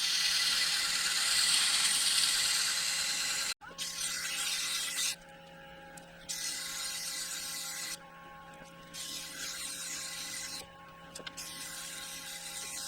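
Sandpaper of 120 grit pressed against a wooden ornament spinning on a lathe, a steady whirring hum broken by several short gaps where the rubbing hiss drops out, with a sharp cut near the start.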